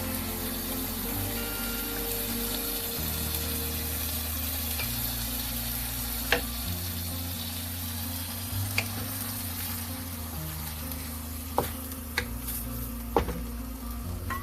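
Sauce from braised pork and dried shrimp sizzles in a hot pan during stir-frying for fried bee hoon, a continuous close hiss broken by a few sharp utensil clicks.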